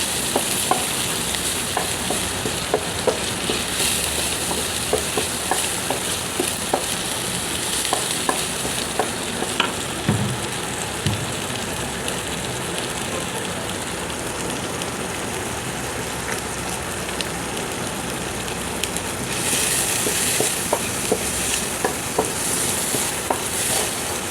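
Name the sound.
prawns frying in oil with salt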